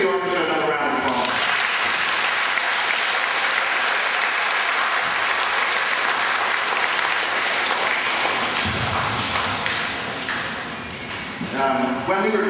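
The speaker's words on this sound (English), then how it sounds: "Let's give the orchestra another round of applause." An audience at a school orchestra concert breaks into sustained applause that carries on strongly for most of the span, with voices heard briefly at the start and again at the end.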